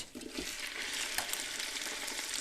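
Meat for degi korma fries on high heat with black pepper, making a dense hissing sizzle with a few soft stirring knocks early on. The sound is close and there is no talking.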